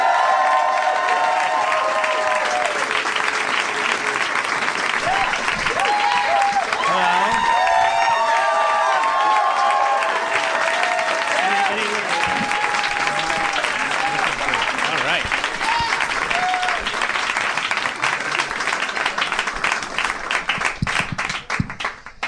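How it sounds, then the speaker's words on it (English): A live podcast audience gives a long, sustained round of applause with cheers and whoops, steady and loud throughout, with voices mixed into the crowd noise. "There was some extended applause there."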